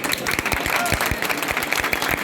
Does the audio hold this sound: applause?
yes